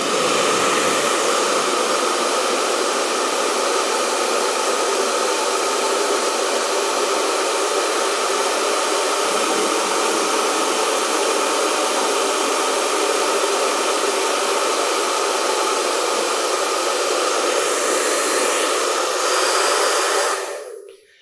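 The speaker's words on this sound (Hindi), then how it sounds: "हमारे पास एक ड्रायर है और साथ में एक पिंग पोंग का बॉल है" A hair dryer blows a strong upward air stream holding a ping pong ball aloft; a loud, steady, close rushing hiss runs unbroken for about twenty seconds, then cuts off.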